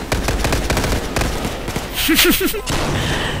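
Rapid bursts of gunfire crackle in quick succession in Call of Duty, with a short pause and brief chirping effects before more shooting resumes.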